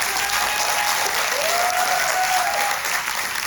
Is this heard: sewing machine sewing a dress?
no